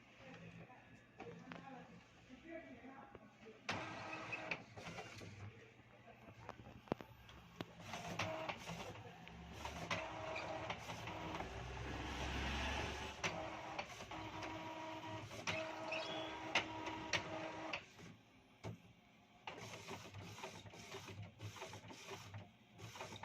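An Epson L805 inkjet printer prints a PVC ID card, its print head shuttling with repeated clicks, whirs and ratcheting feed sounds in bursts, close but fairly quiet, while a person talks.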